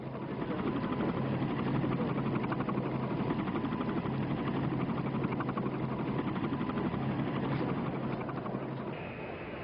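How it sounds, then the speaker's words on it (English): U.S. military helicopters fly out of Tan Son Nhut Airport during the Saigon airlift, a steady, dense rotor and engine roar running without break, recorded with a muffled, old-archival quality and no talking. "The helicopters were leaving from Tan Son Nhut Airport, now besieged by refugees desperate to escape."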